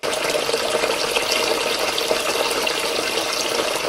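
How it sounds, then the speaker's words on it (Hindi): Water runs steadily from a sink tap left open, a constant close hiss of flow with no break and no voices for the full few seconds. "मैंने ही सिंक का पानी खुला छोड़ा था ना?"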